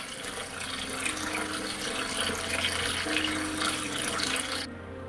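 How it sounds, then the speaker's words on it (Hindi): A waterfall and flowing river roar as a dense, steady rush of water that holds loud and even, then cuts off abruptly near the end. "देखिए, वो झरना, इसकी आवाज कितनी मधुर है"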